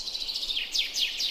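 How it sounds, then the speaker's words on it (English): Birdsong sound effect of a sweet summer's day: bright chirps and descending whistled trills repeating several times, clear and close with no voices. "the green one is birds"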